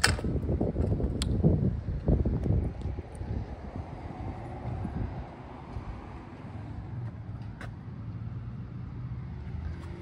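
A Sacramento SacRT light rail train rolls past a road crossing at night. The rumble is close and loud at first, then settles into a steady, lower rolling drone as the cars continue by.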